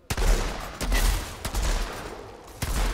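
Gunfire in the shooter game Outriders: a dense, loud fusillade of overlapping shots with several sharp bursts punctuating a continuous rattle, no talking.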